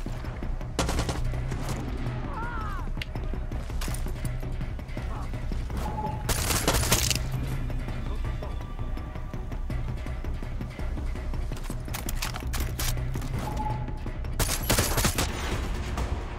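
Gunfire in the shooter Far Cry 6 during an outpost fight, with repeated loud bursts of shots and heavy machine-gun volleys spread across the scene, over steady game background noise with occasional talk.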